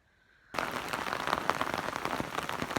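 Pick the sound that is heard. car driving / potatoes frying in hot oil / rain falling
rain falling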